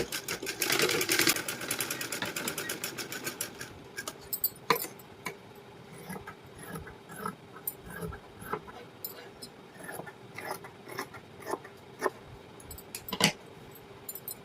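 A sewing machine stitches blouse lining cloth, starting with a loud run of rapid needle clatter, then continuing as scattered short bursts and clicks nearby.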